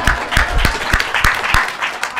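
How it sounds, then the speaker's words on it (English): Scattered applause from a small audience at a talk on collaboration and collectivity, honoring Mary Daly; individual sharp claps ring out unevenly and close by over about two seconds. "Round of applause for Mary Daly."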